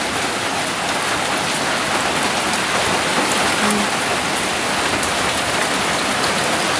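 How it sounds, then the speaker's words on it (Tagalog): Heavy rain falls on and around a chicken coop patched with old plastic, a dense, steady, loud hiss of drops with no pauses. "Kasi pumapasok yung ulan dyan sa loob."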